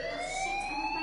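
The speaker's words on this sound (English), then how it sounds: "do you hear that fire alarm? That means you should be outside." Fire alarm ringing in the video game Life is Strange, a steady electronic siren tone with rising pitch sweeps, continuous and fairly quiet for about a second.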